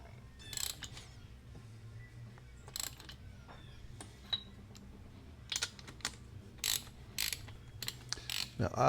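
Ratchet wrench turning while spark plugs are changed on a 2023 Harley-Davidson Road Glide: faint, close ratcheting clicks come in short irregular bursts with pauses between them over a quiet workshop background.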